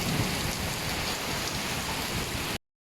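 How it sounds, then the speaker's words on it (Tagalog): Heavy rain pours steadily and loudly close by as a dense, continuous hiss, with a low rumble that may be thunder mixed in, before cutting off abruptly. "Natatakot ako pag kumukulog na ganyan eh."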